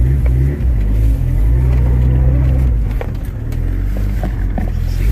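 An OBD1 Honda car with a chipped, socketed ECU drives along, its engine droning low and steady close by, with a brief rise in revs partway through and no talk.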